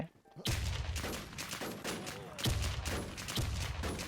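Loud bursts of rapid automatic fire in a video game, aimed at an opponent's shield, arriving in several close, sustained volleys separated by short breaks after a quiet opening moment.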